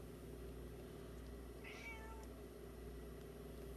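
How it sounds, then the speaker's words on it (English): House cat giving a single short meow partway through, faint and alone over a steady low background hum. "And my cat says hi."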